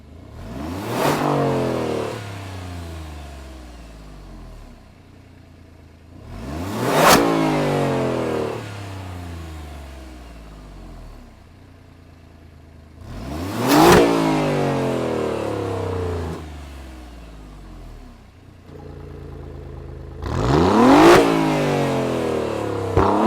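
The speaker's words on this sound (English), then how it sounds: "now let's take a listen to the exhaust sound" A 2018 Alfa Romeo Giulia Quadrifoglio's 2.9-liter twin-turbo engine exhaust revs four times, each blip rising sharply to a loud roar then falling back to a burbling idle, heard up close.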